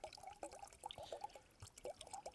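Filtered water from a mountain tarn is poured for a brew at a wild camp in the Lake District, faint close trickling and dripping splashes in short uneven bursts.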